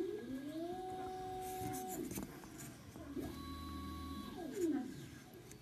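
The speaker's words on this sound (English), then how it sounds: "It's my 3D printer." A 3D printer printing small sculpting tools for eyes, its stepper motors whining in steady pitched tones that shift and rise between moves, with mechanical whirring and soft clicks throughout.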